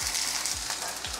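Onions and green chillies fry in hot oil until light golden, a steady close sizzle with faint pops and a few soft low knocks across one short stretch, no voices.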